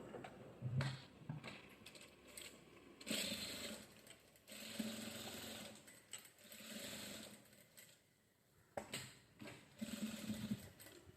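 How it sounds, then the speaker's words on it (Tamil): A sewing machine runs in short bursts while stitching a saree blouse, its quick mechanical whirring and ticking starting and stopping several times, fairly close but low in level, with no talk. "இதுக்கு மேலே ஒரு படிமான தையல் ஒன்று போட போகிறோம்"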